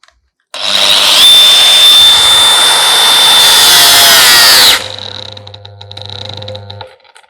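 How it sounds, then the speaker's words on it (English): A DeWalt DWE4345 700W paddle-switch brushless angle grinder whines loudly at full speed for about four seconds, then drops abruptly to a lower, uneven sputtering drone as it is overloaded, before falling silent. "I've intentionally overloaded the machine"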